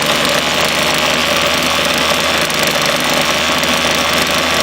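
A small motor fitted to a 1965 Schwinn Breeze bicycle idles steadily and close by, a continuous buzzing rattle with no change in pace throughout.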